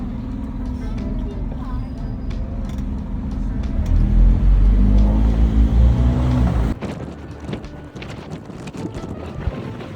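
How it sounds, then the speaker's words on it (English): Bus riding along the roads of Gozo island, a steady low engine rumble with rising drone and wind buffeting, which drops off sharply partway through, leaving quieter cabin noise. "I loved every bit of this bus ride"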